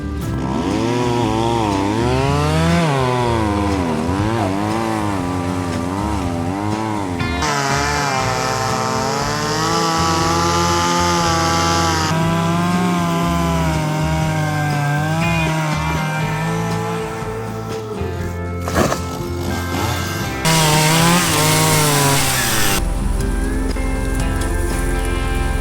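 A chainsaw cutting through felled tree wood on a farm, loud and close, its engine revving up and down in repeated waves as it bites into the logs, sustained with a short pause and a final burst.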